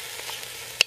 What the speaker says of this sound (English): we got us a pretty good sizzle going there